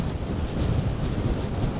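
Strong wind buffets the microphone beside Portland Harbour in Dorset, a steady loud low roar with gusty swells and no pauses throughout.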